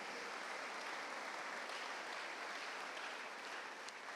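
A church congregation at a Sunday service applauding the Lord, a steady broad wash of clapping from many hands that holds evenly throughout, sounding slightly distant in a large room.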